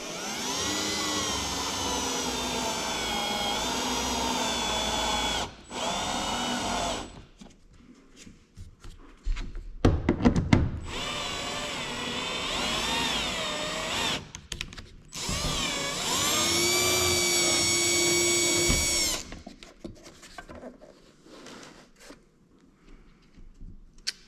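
Power drill on a Kenworth K100E cab during restoration, spinning a riv nut in bursts: several whirring runs of a few seconds each, with brief pauses and some clanking handling noise between them.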